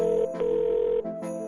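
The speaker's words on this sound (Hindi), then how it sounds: "इसलिए उसने तुरंत यश को फोन किया।" A telephone call tone sounds close and steady, a sustained electronic tone broken by two short gaps and accompanied by a higher faint whine.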